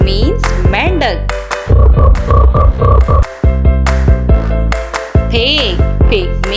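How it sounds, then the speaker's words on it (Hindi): A frog croaks in a run of rapid, repeated croaks over a steady musical backing, loud and close, with a pause before a few further calls. "Frog, frog means मेंढक।"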